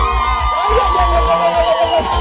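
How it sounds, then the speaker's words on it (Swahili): A crowd of women ululates in praise at a live gospel performance, a loud, sustained trilling cheer with whoops rising over a steady low beat for the whole stretch. "Akina mama mliokuja bila kulazimisha piga vigelegele kwa Yesu."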